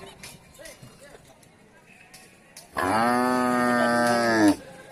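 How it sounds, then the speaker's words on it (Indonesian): A lean Javanese local cow at an Indonesian cattle farm gives one long, loud, sustained moo close by, after a stretch of quiet background sounds and distant voices. "Ini sapi Jawa, sapi lokal, kurus tapi sehat nih"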